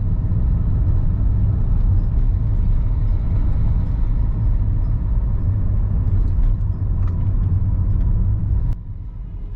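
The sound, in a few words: car driving on a road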